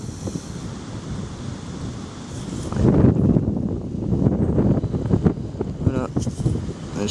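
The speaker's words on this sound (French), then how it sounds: "Bon, il y a du vent." Wind gusting through a forest, buffeting the microphone with a rough, low roar that swells and fades over several seconds, with a voice speaking briefly beneath it.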